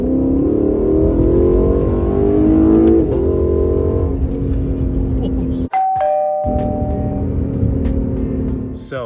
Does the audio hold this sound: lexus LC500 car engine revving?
yes